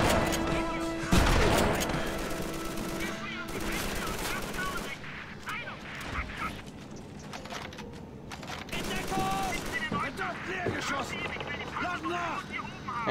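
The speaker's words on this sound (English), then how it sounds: "Shotgun." Shotgun blasts and other gunfire in a Call of Duty 3 campaign battle at Les Ormes, sharp bursts scattered over a busy war soundscape while people talk.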